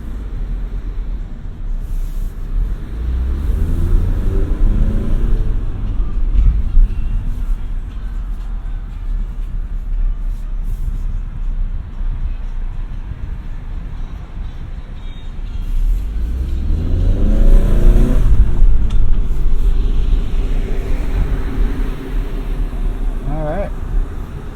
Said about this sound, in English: I'll roll this window down to let you hear the road noise.